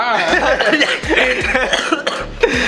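A burst of harsh coughing up close, several rough coughs in quick succession with some throat noise.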